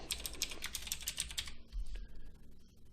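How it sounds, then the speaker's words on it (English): Typing on a computer keyboard during computer setup, a quick run of close, crisp key clicks for about a second and a half, then a few sparser taps. "and I'm going to type Hello World."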